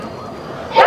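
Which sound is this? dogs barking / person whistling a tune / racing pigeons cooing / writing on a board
dogs barking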